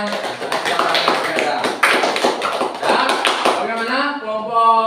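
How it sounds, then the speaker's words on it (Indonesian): A primary school class claps for a student group that has just presented, a short burst of scattered clapping mixed with voices. It fades as a teacher speaks at the end. "tepuk tangan untuk kelompoknya si Budi"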